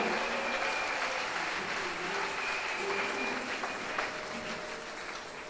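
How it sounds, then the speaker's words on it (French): A church congregation applauding loudly and steadily at a sermon, a dense, sustained wash of clapping filling the whole stretch with faint voices mixed in. "Acclamez alors très fort."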